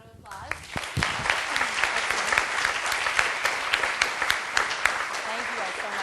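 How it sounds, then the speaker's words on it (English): A lecture-hall audience at a UCLA sustainability class breaks into applause: dense, crisp clapping that swells quickly and holds steady for several seconds. "let's give them a wonderful round of applause"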